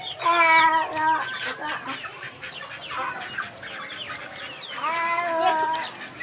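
Young desi and aseel chicks on a family farm cluck and peep while snatching feed from one another, repeated close chirping calls in bursts with busy scratching and pecking between them.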